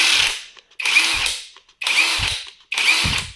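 A cordless impact wrench bought from AliExpress, powered by a fully charged 6 Ah Leader battery, fires four loud, close hammering bursts of under a second each, with short silent gaps between them.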